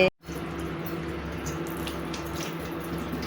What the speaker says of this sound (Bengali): নোড়াটা ভালো করে ধুয়ে নিচ্ছি, পাটাটাও ধুয়ে নিয়েছি।